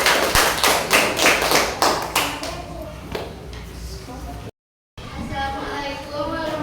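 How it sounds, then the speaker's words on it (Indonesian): Audience clapping for a presenting group in a classroom-style session, a short round of close, loud, uneven claps that trails off after about three seconds, followed by voices talking. "Tepuk tangan untuk kelompok 2."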